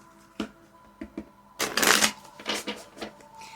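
A deck of tarot cards is shuffled by hand, with a few soft taps and card slides, then a loud riffling burst, followed by lighter flicks and taps as the cards settle, close and clear.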